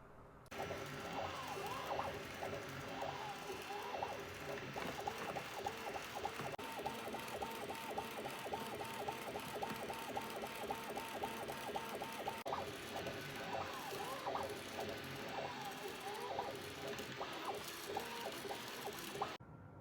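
A 3D printer prints a part, giving a steady mechanical whir with repeating stepper-motor tones and ratcheting pulses that rise and fall in pitch, close and continuous at low level.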